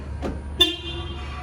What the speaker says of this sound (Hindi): अगर आपका बूट भी ओपन रहता है या कुछ भी है तो वो ऐसे ही हॉर्न करेगी